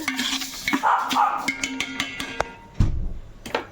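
Pulao ingredients with saffron-orange food colouring stirred in a pot, soft scraping and clinking of a spoon against the metal with a faint sizzle beneath, close and irregular.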